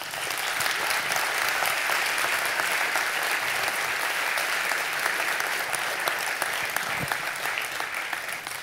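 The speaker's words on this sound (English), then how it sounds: "You can tell by the applause what people thought of that." After a talk at the Learning Without Frontiers event in London, the audience gives a steady, full round of applause, a dense wash of many hands clapping evenly for the whole stretch without speech.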